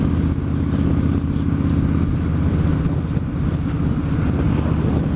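A Striker motorcycle engine drones loud and steady during a ride, with a continuous low rumble blended with heavy wind buffeting across the microphone.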